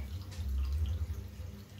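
Tap water running briefly to wet a facial cleansing brush at a bathroom sink, a soft steady close-up stream, low and alone with no talking.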